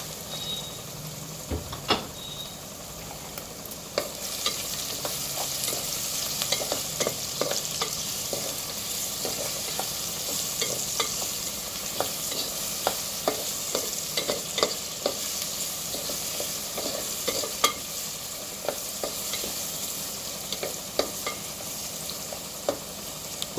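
Onions with a little salt fry in a pan for a country chicken curry, a moderate continuous sizzle broken by frequent stirring taps and scrapes of a utensil.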